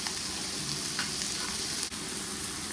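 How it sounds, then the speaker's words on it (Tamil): Tomatoes, ginger and garlic sauté in hot oil for a paneer butter masala, giving a steady, close sizzle throughout with a couple of faint stirring clicks and no talking. "எண்ணெயிலே நல்லா வணக்கணும்."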